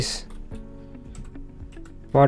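Python code is typed on a computer keyboard in a steady run of light, close keystroke clicks, with a brief burst of speech at the start and end.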